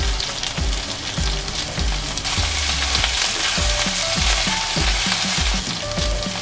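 Pork belly fries with minced ginger and rock sugar in a pan, giving a loud, steady sizzle throughout. Rhythmic scraping stir strokes repeat roughly every half second over the hiss.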